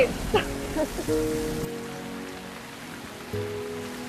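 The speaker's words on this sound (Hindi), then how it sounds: "बारिश हो रही है" Steady rain patter fills the background, a soft continuous hiss of drops on a surface, with a few brief voiced sounds and tones early on.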